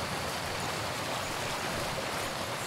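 Steady rushing water from a waterfall in the PS3 game Cabela's African Adventures, a continuous broadband wash of moderate level with no talk over it.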